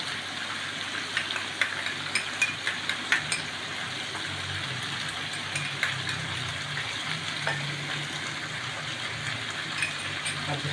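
Mutton head pieces frying with garlic ginger paste in a pan, a continuous close sizzle with repeated light clinks and scrapes of a stirring spoon, no talking.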